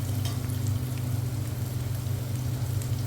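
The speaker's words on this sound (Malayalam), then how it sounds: "ക്യാരറ്റിന് അത്യാവശ്യം വേവ് വേണ്ടതുകൊണ്ട് നമ്മൾ അത്യാവശ്യം വലിയൊരു ഫ്ലെയിമിൽ വെച്ചിട്ട് അതൊന്ന് വഴറ്റണം" Long-cut carrots sautéing over a high flame for Chinese chicken noodles, a steady, close, even sizzle with a low hum beneath, uninterrupted and without talk.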